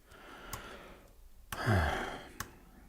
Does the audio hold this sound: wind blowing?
no